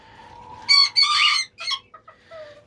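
A young rooster, five to six months old, newly brought to a coop, crows loudly nearby in a few broken, uneven bursts, followed by a softer cluck.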